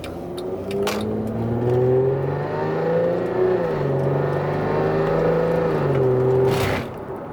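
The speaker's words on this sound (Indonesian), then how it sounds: "Mobil 3000 cc V6, suara kayak gini" A Mercedes-Benz W204 C300 with a 3000 cc V6 engine pulling hard from inside the car, a smooth rising and falling engine tone that climbs through the revs, steady and close, then eases off at the end.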